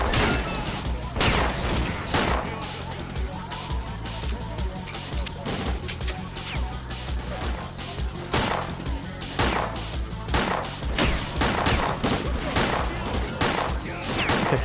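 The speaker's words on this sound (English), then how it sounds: "I can't shoot the pistol quickly" Repeated pistol shots in the S.T.A.L.K.E.R.: Clear Sky shooter, sharp cracks spaced irregularly about a second apart over a steady low rumble of game ambience, loud and close throughout.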